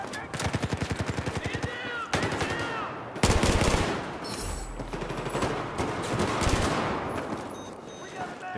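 Battlefield 4 gunfire in hardcore mode on the Operation Locker map: rapid automatic bursts crackle up close, then pause and resume with further shots and heavy battle noise.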